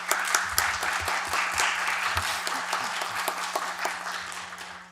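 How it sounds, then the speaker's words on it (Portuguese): Audience applause at a symposium opening panel, with distinct individual claps standing out over a continuous bed of clapping and a faint steady hum beneath, gradually easing off. "Peço uma salva de palmas para a mesa de abertura."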